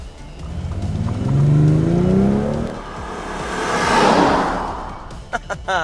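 A 2015 BMW M550d diesel revs and accelerates loudly, its engine sound played through cabin speakers, rising in pitch twice with a whooshing swell, heard close with no talking.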